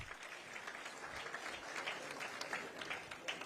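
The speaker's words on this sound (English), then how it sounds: "A hand of applause" Audience applause at a political event in Kenya, a steady wash of clapping from a crowd that carries on throughout at a moderate level.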